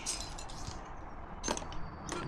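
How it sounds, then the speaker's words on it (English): Shards of a broken neon sign shift and clink inside a plastic garbage bag, producing a dense jangle of small glass chinks with a couple of sharper clusters, close by. "The rest of the glass inside, I can hear it inside the plastic garbage bag here."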